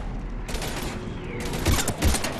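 Gunfire in the video game Mass Effect 3 on Xbox 360: rattling volleys of shots with heavier thumping impacts building toward the end, over a busy background of combat noise.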